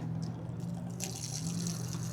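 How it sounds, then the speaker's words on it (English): Hot water drains from cooked ramen noodles through a strainer, a close splashing pour and trickle that swells into a brighter, fuller gush about halfway through. "Okay, yes, we strained all the water out."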